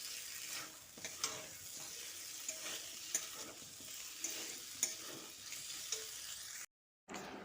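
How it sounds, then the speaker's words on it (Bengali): Fried pumpkin being stirred into a spice paste in a pan, giving a steady soft sizzle with repeated scraping stir strokes, fairly quiet and close, with no voices. "কুমড়োগুলো দিয়ে মশলার সঙ্গে ভালো করে মিশিয়ে নিচ্ছি।"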